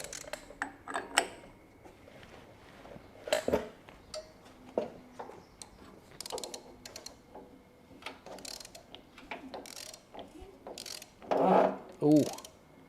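A 1500cc air-cooled VW engine is turned over by hand, giving scattered clicks, ratcheting ticks and short mechanical clunks at close range, with faint speech at times.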